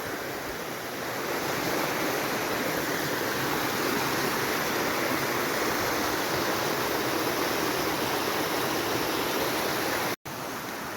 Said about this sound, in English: It's quite the beautiful creek.